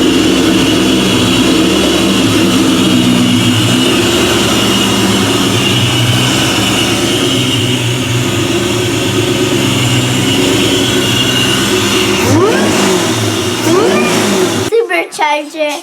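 The supercharged engine of a 2004 Mustang Cobra Terminator with a 2.3L Whipple blower runs close by at a loud, steady idle with a whining drone and a few blips late on before it cuts off abruptly; a person talks over it.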